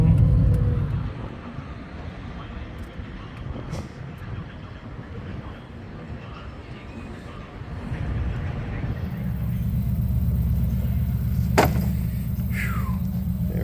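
A square-body truck rolls along and merges into traffic, its engine rumble and road noise steady throughout, swelling louder toward the end as passing vehicles whoosh by close.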